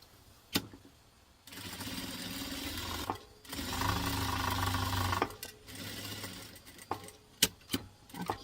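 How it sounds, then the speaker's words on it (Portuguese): A sewing machine stitches a fabric notebook cover, running in bursts of steady whirring with short pauses and small clicks between runs, close and clear with no talking. "Agora aqui, costuro bem em cima da costura."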